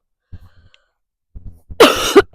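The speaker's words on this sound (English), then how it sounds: "If I could get rid of this cough," A person gives one loud, harsh cough near the end, after a few faint low throat sounds, heard close with no talking.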